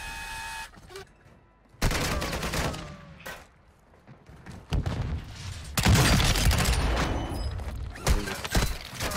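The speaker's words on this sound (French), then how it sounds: "pourquoi est-ce que ce mec nous tire dessus maintenant alors qu'il aurait pu tirer depuis tout à l'heure sur ce mec?" Gunfire in an online shooter game, with bursts of rapid shots and sharp single reports arriving in clusters, some loud and close, separated by brief quieter gaps.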